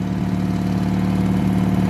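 A 1986 Murray lawn tractor engine runs at a steady idle, its low, even rumble continuous and close throughout with no voices.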